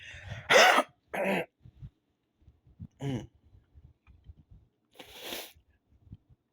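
Harsh, repeated coughing from someone vaping cannabis, several loud hacking bursts spread across the moment with quieter throat sounds and breaths between them.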